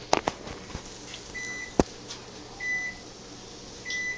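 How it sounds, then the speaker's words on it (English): Kitchen timer giving a few short, thin electronic beeps, spaced out among clicks and clatter in a room, with a soft steady hum underneath. "Well, that's the timer"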